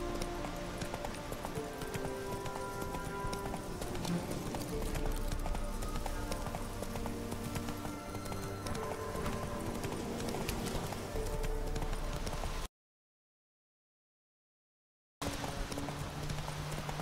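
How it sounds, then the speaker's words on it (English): A ridden horse's hooves clip-clop in a steady gait in a game setting, continuous and fairly close over background ambience, cutting to silence briefly before resuming. "This is Yondrain Ibmakir. Giddy up"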